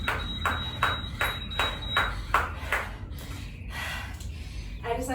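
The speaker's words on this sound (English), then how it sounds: "Okay, so timer's beeping." A workout timer beeps repeatedly in a steady rhythm, about twice per second, then stops, followed by faint breathing and a brief voice.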